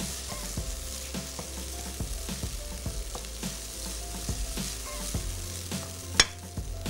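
Onions and medium tomatoes fry in a pan while a spoon stirs them at a steady rhythm, each scrape landing over a continuous sizzle, close and clear, with a brief sharp clink near the end and no voices.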